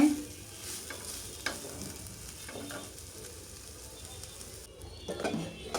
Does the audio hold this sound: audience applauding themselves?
no